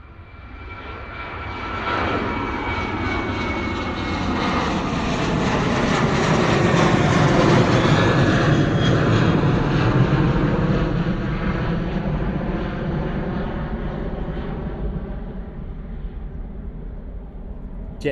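A Jet2 Boeing 737 passes directly overhead at Bristol Airport with a loud, sustained jet engine roar that swells to a peak midway and slowly fades, with no talking heard.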